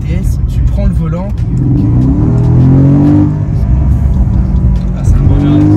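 A Porsche Panamera GTS engine revs and pulls as the car is driven, a loud, steady mid-range rumble with rising and falling pitch sweeps under someone speaking French throughout.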